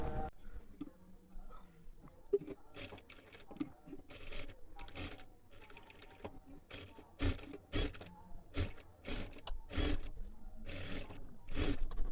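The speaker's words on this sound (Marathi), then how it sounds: "एकदम कडेकडेला पूर्ण गळ्याला आपल्याला शिलाई करून घ्यायचं आहे" A sewing machine runs stitches along the edge of a matka-style blouse neckline, with bursts of rapid mechanical whirring that start and stop repeatedly, close and loud, separated by brief quieter pauses.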